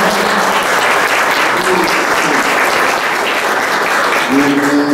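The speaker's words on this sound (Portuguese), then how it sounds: "Uma salva de palmas por este coral." A church congregation applauds a choir, steady dense clapping filling the room throughout, with a few voices and faint sustained tones underneath.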